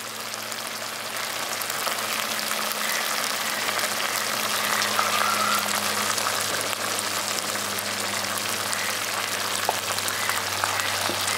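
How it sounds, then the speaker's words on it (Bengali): Fried eggs go into a pan of cornflour sauce for village-style egg manchurian, and a continuous, even sizzle and bubbling hiss fills the whole stretch, close and steady with no talk. "এবার ভেজে রাখা ডিমগুলো আমি দিয়ে দিচ্ছি।"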